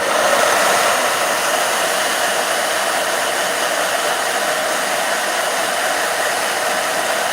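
A blow dryer blasts continuously while drying art journal pages, a loud, steady, broadband whoosh held close and unchanging throughout, with no voices.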